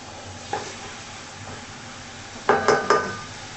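Food sautéing in a pan over a low sizzle, with a few sharp metallic scrapes and clinks of a utensil stirring against the pan, two quick strikes near the end.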